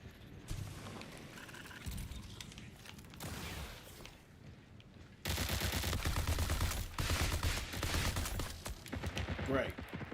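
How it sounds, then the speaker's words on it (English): Gunfire in the video game Marathon: bursts of rapid automatic shots, close and loud, starting and stopping in clusters, with a voice speaking over parts of it. "I can't even finish the gun battles, Chance."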